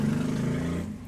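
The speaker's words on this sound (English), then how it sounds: "Ooh, that's a noisy car." A loud car engine drones past nearby, its low rumble holding steady then fading slightly as it moves away, heard during a Minecraft (MC Eternal) stream.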